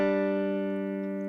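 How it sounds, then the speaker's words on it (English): Dry virtual electric guitar in the Cakewalk recording software, one sustained clean note or chord ringing steadily without effects, close and alone, gently decaying over a second or so. "I have a channel set up with this dry virtual electric guitar sound."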